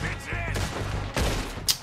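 Gunfire from the Red Dead Redemption 2 train robbery mission, a few loud broadband bursts in quick succession over a steady game soundscape, ending with a sharp ricochet-like crack.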